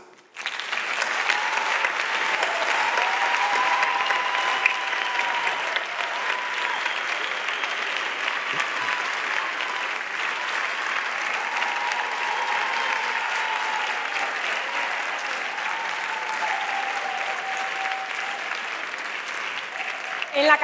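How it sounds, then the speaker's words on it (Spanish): Warm, sustained applause from a gala audience welcoming award winners at a Spanish awards ceremony, steady dense clapping lasting about twenty seconds with a few faint voices underneath. "vamos a recibirles con ese caluroso aplauso"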